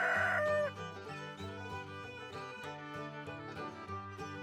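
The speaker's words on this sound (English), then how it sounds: "They crow early in the morning to wake everyone up on the farm." Rooster on a farm crowing once, loud and bright at the start, followed by softer farmyard clucking and a sustained tonal background bed.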